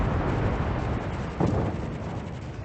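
Torpedo striking a warship in the World of Warships naval battle game, a deep, rumbling roar of explosion noise that fills the whole moment, with a slight swell midway before slowly easing off.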